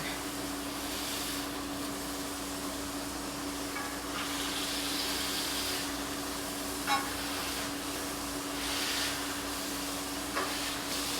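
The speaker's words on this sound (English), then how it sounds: "So you're gonna get your spatula and you're just going to press that meat down." Burger patties for a double double are pressed flat with a spatula on a hot grill, giving a steady broad sizzle with a few soft scraping touches.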